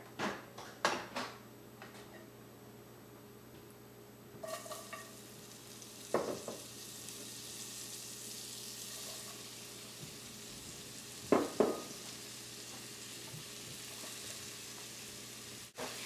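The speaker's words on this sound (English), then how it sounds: "get some onions, some apples, and some mushrooms in the same pan and just cook them through with a little bit of butter" Onions, apples and mushrooms cook in a little butter in a pan with a soft, low sizzle, broken by a few quiet clinks and clatters of a utensil; no one speaks.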